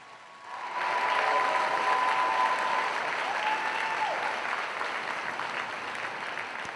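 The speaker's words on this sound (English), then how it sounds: "Let's give them yet another amazing round of applause." Steady, full applause from a large audience at a 2023 FSW nursing pinning ceremony for graduates, rising quickly and holding strong with a faint tone running underneath.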